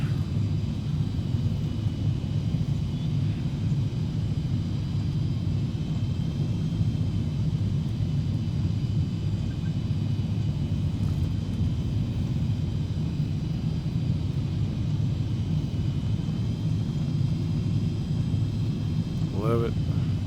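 A Premier 1A jet taxiing, a steady low cabin rumble and engine hum heard from inside throughout, with faint talk.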